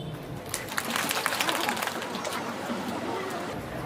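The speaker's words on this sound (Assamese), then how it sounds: "হৃদয়মণি দাসৰ হৈ এটি হাত চাপৰি" Clapping from a gathered audience honouring Hridaymoni Das, a dense patter of hands that swells quickly and continues steadily at moderate loudness amid some background murmur.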